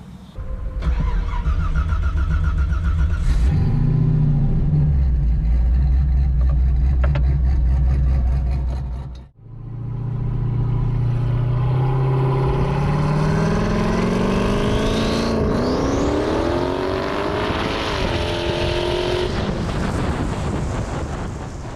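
A Chevrolet Camaro engine cranks and fires, idles with a low rumble, briefly cuts out, then restarts and revs as the car pulls away, its pitch climbing through the gears under gusty wind noise.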